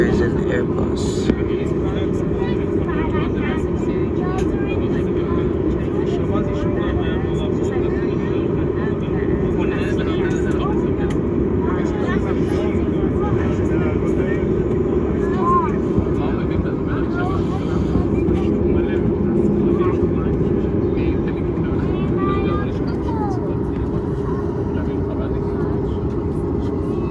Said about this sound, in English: This plane landing here is an Airbus.